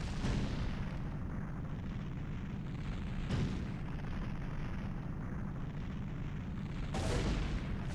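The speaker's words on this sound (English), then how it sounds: "don't look back at the explosion" Explosions in Zelda: Ocarina of Time, rumbling booms that hit around three and seven seconds over a steady low roar, heavy and sustained with no talk.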